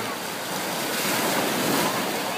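Sea waves rolling onto the beach at Cha-am, a dense steady hiss of surf with wind, building slightly in loudness, heard alone.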